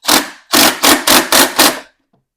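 Power tool fastening rear crash bars onto a Triumph Trophy SE motorcycle, six loud, close bursts of rattling impact in a steady rhythm, each about a quarter second, then quiet.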